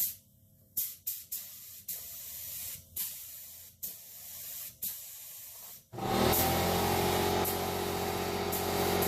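A W71 spray gun hisses in short repeated bursts, then opens into a loud, sustained spraying hiss that continues to the end.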